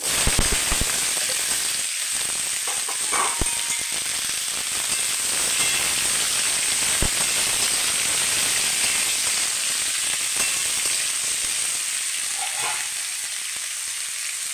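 Pumpkin pieces, stirred with curry leaves, sizzle and fry in a hot pan, a continuous crackling hiss with occasional stirring clinks and pops throughout.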